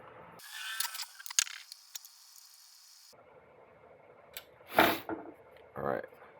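Screws being driven in to secure parts during an FTEC1 Gen2 build, heard as short ratcheting clicks and a few louder mechanical bursts, close and fairly quiet.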